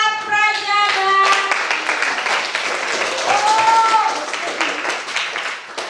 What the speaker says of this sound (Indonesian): tepuk tangan buat Rifat, Raja, dan